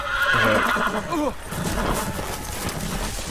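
A horse whinnies loudly with a rising, wavering neigh in the video game Game of Thrones: Iron from Ice, then hoofbeats clop along under a busy game background.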